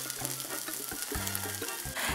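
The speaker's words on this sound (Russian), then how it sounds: "Переворачиваем наш блинчик. И обжариваем с обратной стороны." A zucchini pancake sizzles in a frying pan, a steady close hiss of hot oil with faint scraping as it is turned, and no talk.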